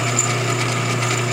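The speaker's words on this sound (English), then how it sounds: "You get a lot of use out of this little lathe." A small lathe drilling a hole through a part for a homemade four-cylinder Briggs engine project, a steady motor whine with a constant low hum, near and continuous with no talk.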